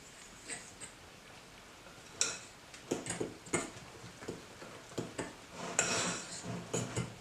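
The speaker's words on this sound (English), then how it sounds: "add our egg mix and milk mix into the flour mix, mix it together to form a dough" A fork clinks and scrapes against a bowl while egg, milk and flour are worked into scone dough, with irregular close taps that grow busier and denser toward the end, and no voices.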